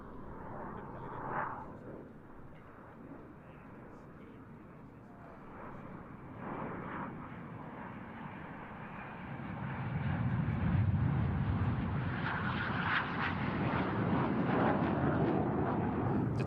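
Four jet aircraft of the Midnight Hawks display team fly in close diamond formation at an air festival, a broad roar that swells as they pass, distant at first and growing louder and nearer, with a voice speaking over it.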